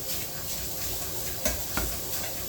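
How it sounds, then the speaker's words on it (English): Bread machine churning pizza dough in a home kitchen, a steady low whirring and rumbling drone with a couple of brief soft knocks, fairly close and with no talking. "you can hear the bread machine is mixing"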